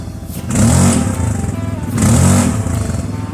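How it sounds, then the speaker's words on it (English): A vehicle engine running after being started, a loud, close, throbbing idle that swells twice in rev-like surges before settling back, with no talk. "The motor runs strong when it's running."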